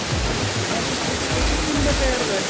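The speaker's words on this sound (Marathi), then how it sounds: "अरे इथे धबधबा आहे ते छोटे छोटे बरेच आहेत" Small waterfalls in Kamshet, in rainy weather, give a steady, loud broadband rush of falling water that fills the whole stretch, with voices faintly underneath.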